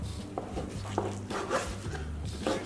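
A knife chops through the collar of a sea bass on a wooden board, giving a few soft, close thuds and rubbing scrapes at irregular intervals, with no talk.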